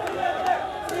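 A crowd shouting at former dignitaries, a dense mass of raised voices blending into a sustained roar at moderate distance, steady throughout the short moment with slight swells.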